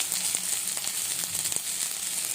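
Green mango upma with curry leaves and chopped green chilli sizzling in a pan, a steady bright hiss with a few soft stirring taps.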